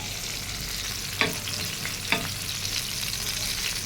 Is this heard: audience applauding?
no